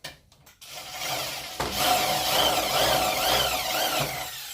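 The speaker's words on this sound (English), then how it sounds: "I've never tried to drill out rivets with a step drill until now" A step drill bit grinds steadily into metal rivets on a sandblasting cabinet, a harsh rasping whine that rises after a brief start and continues for several seconds, close up.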